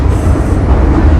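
A Hong Kong metro subway train runs loud and close, with a dense low rumble and rattling rail noise throughout and no voices.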